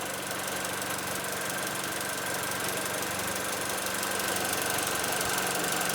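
A Mini Cooper engine idles steadily with a low, constant hum and a faint rough knock running underneath, close by and unbroken throughout.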